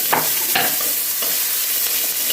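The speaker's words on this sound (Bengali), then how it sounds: "পেঁয়াজটা একটু হালকা করে ভেজে নিতে হবে।" Chopped onion sizzles in hot oil in a pan with a steady hiss, while a few short scraping stirs sound near the start, close and fairly loud.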